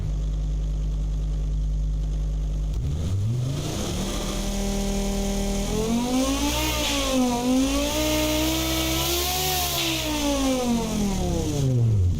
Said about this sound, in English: It sounds like an F1 car,